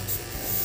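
A steady, close hiss of colour being sprayed onto the centre of a non-wired sugar flower sunflower, one brief continuous burst with no voices.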